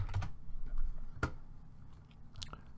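Someone types on a computer keyboard with a few scattered, soft, close key clicks and taps in quiet surroundings, irregular and brief.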